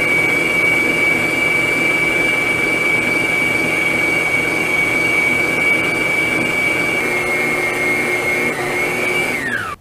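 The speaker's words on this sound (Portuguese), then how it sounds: "eu vou ligar a batedeira na velocidade mínima e vou acrescentando aos poucos a farinha de trigo" An electric stand mixer runs steadily at its lowest speed while wheat flour is added a little at a time for a soft, economical dough, a loud continuous whirring hum with a steady whine that winds down abruptly at the end.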